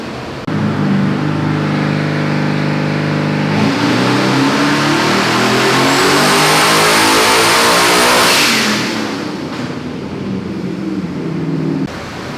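Twin-turbo LS V8 swapped into a Ford Fairmont, tuned on Holley EFI, revs hard and loud with rising and falling engine note, turbo spool whine climbing near the peak before easing back to a steady rumble; no talking.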